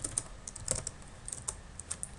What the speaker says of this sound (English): we need to type in my username